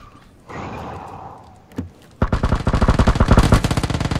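Gunfire in the video game PUBG from a field to the south: a single sharp shot, then a rapid burst of dense automatic fire, loud and steady.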